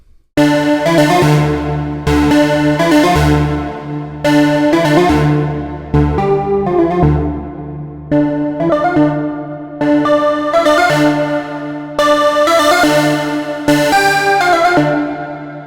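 Diva synth lead preset called River, playing a melodic sequence of bright, harmonically rich sustained notes with rhythmic retriggers, loud and alone with no voice.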